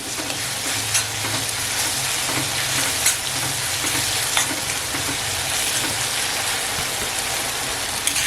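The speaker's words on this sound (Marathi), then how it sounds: "ते लवकर सुकावं म्हणून हे हलवत राहायचं तव्यात" Dense, continuous sizzling of Bombay duck keema frying in an iron pan, with faint scraping taps of stirring and a low hum underneath.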